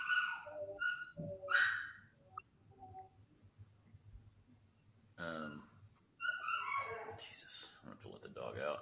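A dog whimpers to be let out, giving several high, nasal whines and yips close by, separated by quiet gaps, with people talking intermittently around them.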